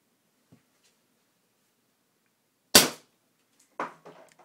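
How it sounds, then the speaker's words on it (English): A Flasc TM-15 paintball marker fires a single sharp, loud shot, followed by a softer clack and faint rattle, in an otherwise quiet setting. "Let's reset the meter and we'll take the second shot."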